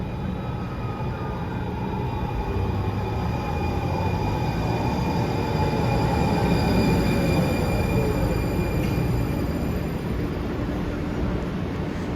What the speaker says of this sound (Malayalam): അപ്പോൾ നമ്മുടെ മെട്രോ വരുന്നുണ്ട്